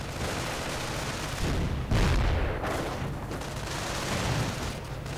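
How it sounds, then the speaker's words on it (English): Calliope rocket artillery barrage in a World War II strategy game, a dense rumbling volley of booms and rolling blasts that swells and stays loud throughout, with no voices. "And a nice Calliope barrage that does quite a bit of damage to me"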